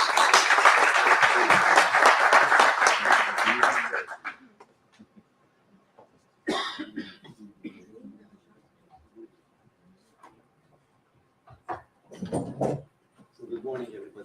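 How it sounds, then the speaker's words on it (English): At an international economics conference, an audience applauds the invited professor for about four seconds, then the clapping stops, leaving near silence broken by scattered small noises and brief talk. "Please applaud him and welcome him to the floor."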